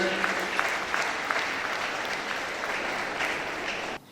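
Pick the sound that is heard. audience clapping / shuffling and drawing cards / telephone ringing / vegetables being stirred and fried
audience clapping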